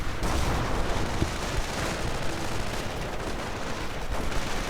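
Dense, continuous gunfire and heavy booms from a 1v1 real-time strategy video game battle, with mortar fire amid steady shooting; loud, unbroken battle noise with no pauses.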